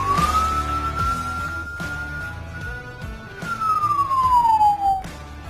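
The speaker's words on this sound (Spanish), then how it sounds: "¿Te has preguntado qué significa cada sonido de la ambulancia?" An ambulance siren sounds close and loud, holding a steady electronic tone before gliding smoothly downward in pitch, with the faint rumble of traffic underneath.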